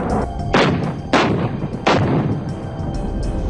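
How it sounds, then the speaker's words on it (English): Artillery bombardment from the 1999 Kargil War between India and Pakistan, with three heavy booming blasts about a second apart over a constant loud rumble, with no voices. "Indian bombardment continued"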